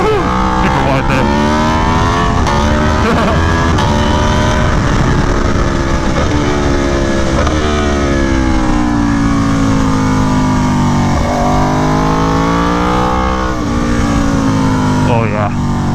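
Aprilia Tuono V4 1100 Factory motorcycle ridden hard on a track: loud, close engine roar rising and falling through revs and gear changes for the whole stretch, with a rider talking over it.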